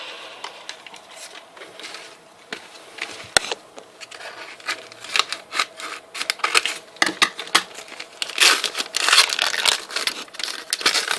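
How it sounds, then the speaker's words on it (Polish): A crinkly parcel being cut open with scissors, close bursts of crinkling and crackling packaging with sharp snips and rustles that grow busier toward the end. "Nożyce weźmiemy."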